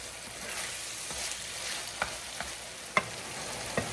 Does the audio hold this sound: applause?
no